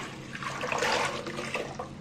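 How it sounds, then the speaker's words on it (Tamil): Water pours and splashes steadily into a pot of cluster beans for a couple of seconds, close and fairly loud, with no talking. "தண்ணி நான் ஊற்றுக்கிறேன்"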